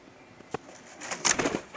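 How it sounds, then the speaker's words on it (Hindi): A female pigeon in a home coop setup, sitting near a nest with two eggs, gives a brief, soft, close-up cooing call with a faint rustle just before it. "ये देख रहे हैं कि ये कबूतरी है"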